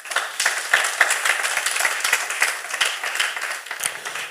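Church congregation at a teaching service applauding together, a steady wash of many hands clapping throughout, moderately loud and filling the room.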